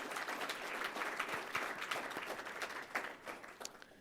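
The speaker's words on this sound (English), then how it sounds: "Let's give them a round of applause for their great feedback today." Steady applause from an audience at a panel event on the future of work, a dense even patter of many hands at moderate level, alone without talk.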